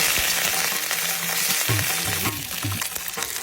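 Mustard seeds, fenugreek, broken dried chillies and curry leaves fry in ghee in a small pan for a mango curry tempering, a loud, dense crackling sizzle with light popping, close and continuous.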